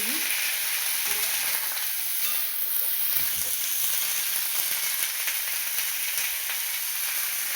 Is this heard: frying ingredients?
yes